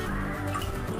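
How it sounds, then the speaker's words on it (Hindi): A cup of milk pours into a heated kadhai on a lit stove for gulab jamun, a steady close liquid trickle with faint dripping running continuously and alone. "एक कप दूध"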